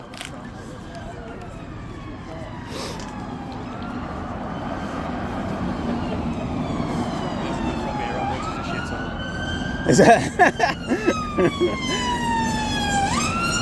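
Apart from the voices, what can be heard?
ambulance siren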